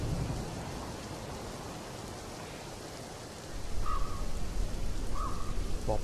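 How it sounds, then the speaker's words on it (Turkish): Soft rain falls in the video game Unlost as a gentle, continuous patter that swells slightly partway through, with two brief tonal chirps in the background. "yumuşak bir yağmur başladı."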